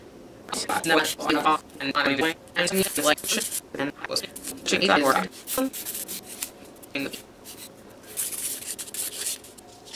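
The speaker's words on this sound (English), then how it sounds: "buffing this bad boy because I've filed" Buffing a filed builder gel nail produces bursts of dry, scratchy rubbing in quick strokes, close and fairly loud, with short pauses between passes and a voice speaking over parts of it.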